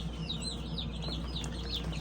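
Baby chicks peep in a steady run of high, rapid chirps, close and fairly soft, over a low background hum.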